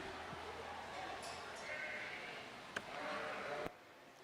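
Sheep bleat in the show ring at the Kentucky State Fair open sheep show. Faint calls rise over a steady arena murmur while an announcer talks, and a couple of sharp knocks cut through.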